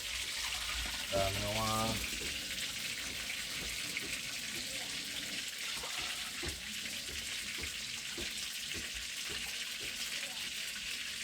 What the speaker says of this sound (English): I'll pour a little more water in, eh?